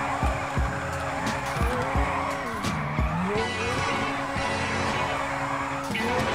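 Car tires skidding and squealing while drifting in GTA 5 on a FiveM server, with wavering engine revs and repeated tire squeals over a continuous, loud engine drone.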